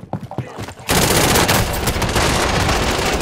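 A very powerful gun fires in a shooter game, a dense, loud, continuous burst of gunfire that starts abruptly and keeps going, following a moment of speech.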